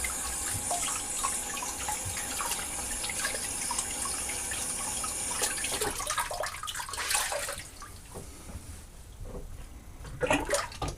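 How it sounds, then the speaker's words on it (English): Cold water runs steadily from a bathroom tap into a sink, a continuous close splashing hiss that thins out and turns more broken and uneven toward the end. "So now cold water."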